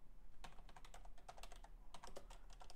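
Computer keyboard being typed on while writing Python code, a quick irregular run of close, crisp key clicks with brief pauses and no voice.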